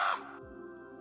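A sassy bird caws in an indie video game, one loud harsh call at the start that quickly fades into a quieter game background hum.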